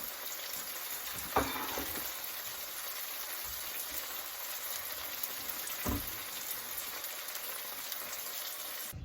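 Philly cheesesteak meat and melting cheese frying on a griddle, a steady close sizzle and crackle throughout with a couple of brief clinks or scrapes.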